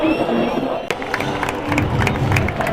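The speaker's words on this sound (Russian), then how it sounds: "аплодируют своему гостевому сектору, который был сегодня очень крутым на самом деле" Barcelona players and travelling fans in the away section at Valencia's Mestalla stadium clap and cheer, a loud, continuous crowd roar with scattered shouts and applause throughout.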